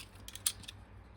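Scissors snip through card in a few quick, quiet, close clicks lasting about half a second.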